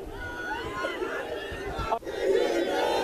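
A large crowd at a political rally roars back a slogan in unison. The loud, massed voices swell and hold, then cut off briefly before the chant rises again.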